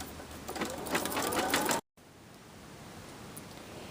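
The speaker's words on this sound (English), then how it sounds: "Just start your machine and let it start sewing out the first color." An embroidery machine stitches out the first color of a design with Mylar, a steady rapid mechanical whirr and needle ticking close by, cutting off briefly before a quieter, smoother hum continues.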